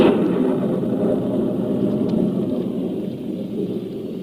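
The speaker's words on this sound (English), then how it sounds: "Then a cloudburst hit." Steady heavy rain roars close by with a low rumbling undertone like distant thunder, continuous throughout with no voices.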